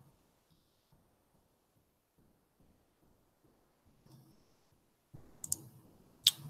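A computer mouse clicks softly and repeatedly while a SketchUp for Schools file is opened. The clicks come in a quiet, fairly regular run, followed near the end by a few louder, sharper clicks and some handling noise.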